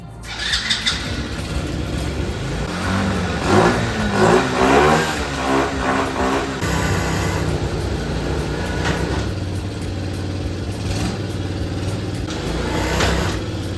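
A quad ATV pulled from the scrap yard cranks and starts inside a shop, its engine revving up in loud, rising surges before settling into a rough, steady idle that keeps running close by.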